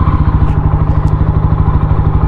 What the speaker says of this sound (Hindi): so we will start the bike now